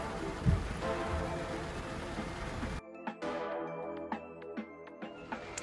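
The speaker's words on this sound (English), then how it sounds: "this is the kind of rain we're getting today" Rain falling on a spring day: a dense, steady hiss for the first few seconds, then a quieter stretch of scattered individual drips and patters.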